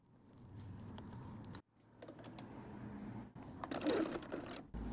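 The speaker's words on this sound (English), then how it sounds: "we're going to stitch it down on those three sides." Sewing machine stitching down three sides of a summer madras tote bag, a steady mechanical whirr that runs in bursts with brief pauses between seams, close and fairly loud.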